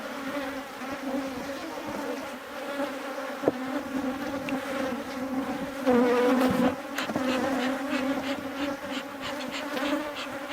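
Honeybees buzz around an open horizontal hive during an inspection, a steady, dense hum of many wings with occasional louder passes close by and no voices.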